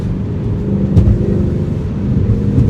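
Mercedes-Benz C63 AMG tuned by Renntech idling with a deep, steady exhaust rumble, close and loud, with a brief rise in revs near the middle.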